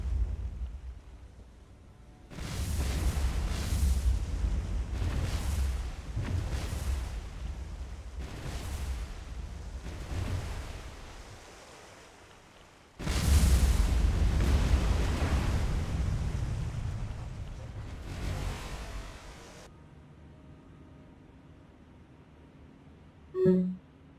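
Naval explosions in the video game War on the Sea as cruisers blast a submarine apart: a series of heavy booming blasts and rumbling bursts, then a second loud barrage before fading to quiet ambience.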